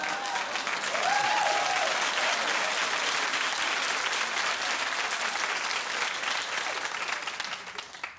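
A television talk-show studio audience applauds in a sustained, dense wash of clapping, with a brief vocal whoop early on, holding steady before tapering off near the end.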